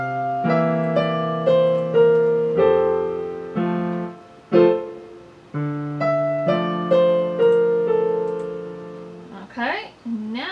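Solo piano playing a three-measure passage from a jazz piece, a steady run of melody notes over sustained lower tones, close and moderately loud, with a brief bit of speech at the end.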